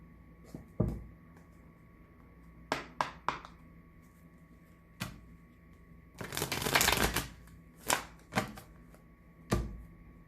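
Tarot deck being shuffled, with scattered sharp card snaps and taps and one longer riffling burst in the middle, quiet and isolated against a faint steady hum.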